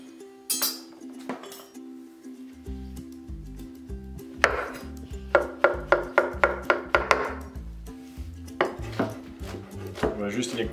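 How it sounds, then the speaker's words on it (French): Mushrooms chopped with a knife on a board, close crisp knocks that start sparse and then settle into a quick, even run of about a dozen cuts before trailing off, with a low background hum. "Donc je commence par couper mes champignons."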